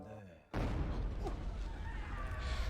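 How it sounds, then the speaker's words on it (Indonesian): A sudden heavy boom of cannon fire in a pirate treasure-hunt film, loud and sustained with a rumbling low roar that follows the blast and fills the rest of the scene. "Saat Mochi menemukan bendera Goryeo, tiba-tiba terdengar suara meriam."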